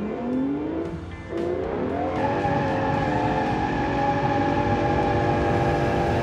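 A V12-engined muscle car drifts with smoking tires, its engine droning and climbing in pitch alongside sustained tire squeal, loud and continuous after a brief dip, no talking.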